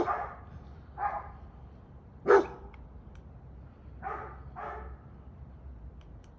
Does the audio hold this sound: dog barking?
yes